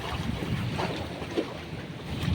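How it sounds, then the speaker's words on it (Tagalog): Strong wind roars steadily and loudly across the microphone at a waterside fishing spot, a continuous blustery rush with low rumble and no clear breaks. "Lakas ang hangin."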